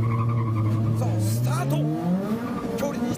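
A drift car accelerates hard on a mountain touge road, its engine note climbing steadily through the gear while a commentator talks over it.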